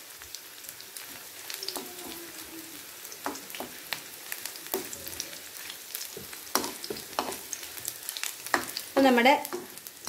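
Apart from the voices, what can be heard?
mustard seeds frying for chutney tempering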